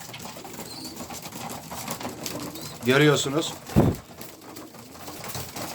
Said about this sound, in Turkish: Bunlar yavru kuş.